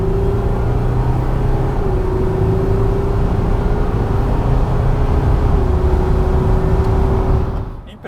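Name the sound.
Volkswagen Amarok V6 Extreme pickup accelerating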